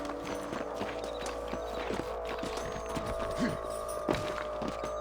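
Steady clip-clop of horse hooves in the video game Red Dead Redemption Remastered, several horses moving at a walk, with a low continuous hum and occasional thuds underneath.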